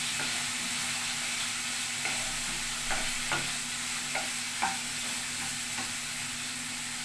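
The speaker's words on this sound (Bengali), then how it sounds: "হলুদ গুঁড়ো দেওয়ার পর আমি একটু নাড়াচাড়া করে নিলাম" A spatula scrapes and stirs vegetables coated with turmeric powder in a hot frying pan, giving several distinct clacks and scrapes over a steady low sizzle.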